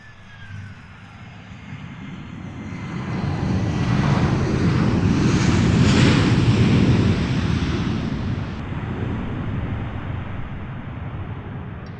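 Airliner landing at London Luton Airport with a short burst of reverse thrust, a broad roar swelling from a distance to a loud peak mid-run, then slowly fading as the plane slows down the runway.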